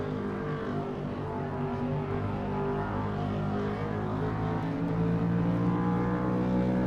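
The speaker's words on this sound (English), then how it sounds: "as you ride on board with the number 6 car of Austin Reed" Onboard engine of the number 6 stock car in a Castrol GTX Cup Series racing video game: a steady, loud, buzzing engine drone at high revs that swells slightly louder in the last couple of seconds.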